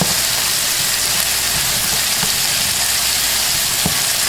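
Tomato paste fries in a pot among stirred ingredients for a meatless Haitian spaghetti, making a loud, steady, close sizzle and hiss broken by a few faint soft clicks, without any talking.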